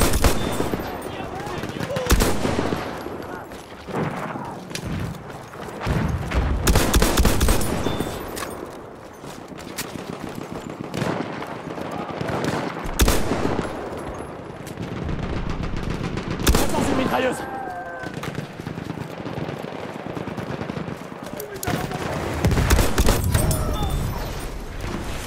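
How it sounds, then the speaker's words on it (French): Bursts of machine gun fire from a Howell Automatic in a multiplayer war video game crack out loud and near in repeated volleys, mixed with other gunshots and distant booms across a busy battlefield, with occasional talk underneath. "J'ai une mitrailleuse."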